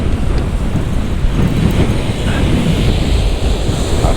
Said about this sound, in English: That wind's a bit strong.